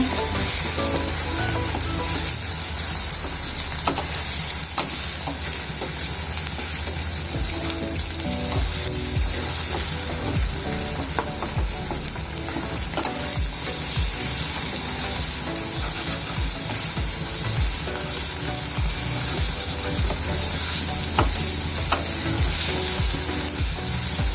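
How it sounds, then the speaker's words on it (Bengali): Beef brain fries in a pan with a continuous loud, crackling sizzle, punctuated by frequent spatula scrapes and stirring clicks, close by and free of speech. "আর একটু ভেজে নেব।"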